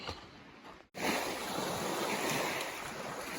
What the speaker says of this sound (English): You can tell the wind's got the water chopping.